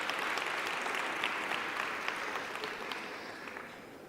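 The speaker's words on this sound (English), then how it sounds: "another big warm round of applause as we acknowledge the presence of the Honorable Deputy Minister who is in our midst" Delegates at a conference clap together in steady applause, a dense, fairly distant patter that fades slightly toward the end, with no speech over it.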